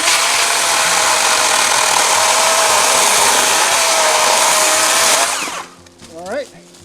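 A cordless DeWalt power saw running on a FlexVolt battery cuts loudly and continuously for about five seconds with a steady high whine, then winds down as it finishes, and a brief rattle follows.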